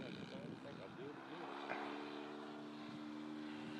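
Propeller-driven electric model airplane making a flyby at a demo flight, a faint steady buzz with a slight pitch sweep as it passes, heard under a man's speech.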